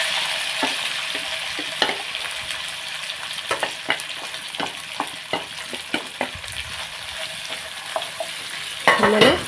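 Ivy gourd (dondakaya) with curry leaves fries in a pan, a steady close sizzle broken by sharp clacks and scrapes of stirring, with a louder rustle near the end.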